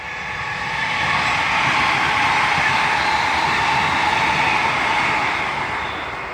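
A train rumbles past nearby at a Newcastle junction, a broad steady roar that swells and fades slightly, with no voices.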